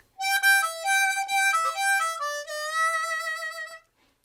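Computer playback of notation entered via a keyboard: a clean synthesized melody of single notes stepping up and down over about three and a half seconds, with held tones near the end, alone and clear.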